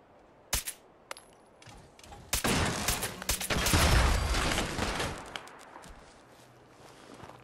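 Gunfire from Gunners enemies in the Fallout 4 video game, with a few sharp shots and clanks and then a louder dense burst of firing and impacts that tails off into quiet.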